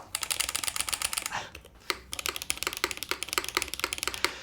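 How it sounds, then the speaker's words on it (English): Rapid, crisp keystrokes clatter on a mechanical computer keyboard with a clickable OLED button, close up, in a fast steady run that briefly pauses midway before resuming. "The typing feels nice."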